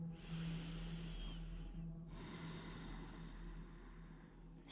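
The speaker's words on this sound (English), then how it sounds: "Just take a few breaths here." Slow, deep breathing during a quiet stretching class, two soft drawn-out airy breaths heard faintly and close, with no talking.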